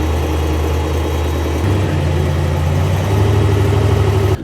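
A 1000-horsepower trophy truck engine idling steadily up close, a deep, even rumble that rises slightly in pitch partway through and holds there, with no voices.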